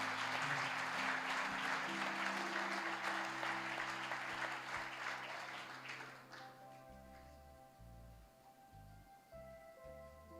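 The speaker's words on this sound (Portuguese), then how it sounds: "Se você recebeu essa palavra, aplauda o Senhor nessa noite." Church congregation at a celebration service applauding in a dense, sustained wash that fades after about six seconds as a soft organ-like musical tone continues underneath.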